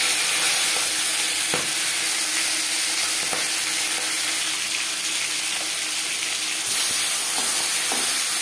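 Rohu fish head frying in four spoons of hot refined oil, a loud, steady sizzle running throughout with a few soft pops and stirring knocks, no talking.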